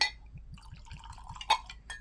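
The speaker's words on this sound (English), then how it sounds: "So let's pour it out." Nikka Black Clear whisky glugs from the bottle into a glass in a soft rhythmic series of pulses, topped by light glassy clinks and one brighter chink, close and quiet.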